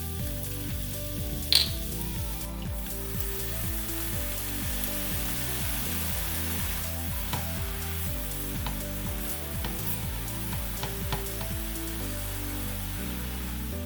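Mushrooms sautéing in a pan with garlic and coconut aminos, a steady close sizzle and crackle running continuously, with a few soft utensil knocks and one brief sharp clink.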